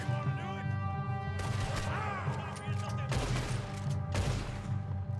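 Gunfire in Red Dead Redemption 2 during a fight on the Isle of Guarma: several sharp, loud shots and impacts in quick bursts over a sustained musical score, with a voice speaking at times.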